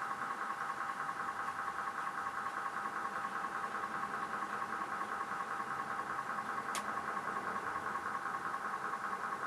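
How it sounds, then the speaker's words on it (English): 1541 Ultimate II cartridge emulating Commodore 1541 floppy drive noise: a steady, faint mechanical hum and whir with a repeating buzz, plus one brief click near the end and no talk. "I like the fact that you're getting the disc noise."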